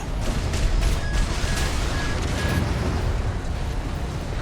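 Explosions in the video game Armored Core VI sound as a dense, continuous roar of blasts and rumbling booms, loud and steady throughout with no clear breaks between them.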